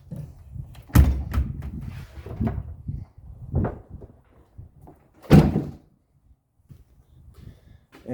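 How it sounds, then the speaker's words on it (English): A Jeep tailgate swings shut with a solid thunk, followed by a few lighter clunks and rattles as it settles, then another firm knock later in the quiet surroundings. "then we can just shut the tailgate on this"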